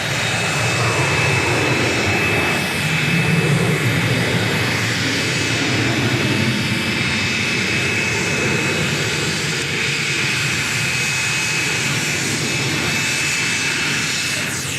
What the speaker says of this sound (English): Our next takeoff ready to roll.